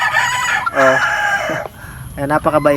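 A yellow legged hatch gamefowl rooster crows and clucks up close, a few short vocal bursts with someone speaking briefly between them.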